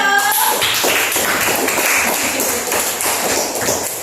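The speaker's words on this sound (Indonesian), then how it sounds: "Tepuk tangan dulu untuk kelompok 1." A classroom of students claps for a discussion group, and the loud, dense clapping carries on steadily through the whole stretch with a sharp tapping edge.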